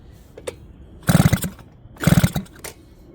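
The two-stroke engine of a 1973 Gemini Boss 80 motorcycle fires in two short, loud sputtering bursts about a second apart, each dying away quickly.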